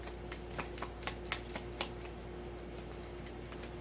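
Tarot cards are shuffled by hand in a quiet room, giving a run of rapid crisp riffling snaps in quick bursts, then softer rustling, close and fairly faint over a low steady hum.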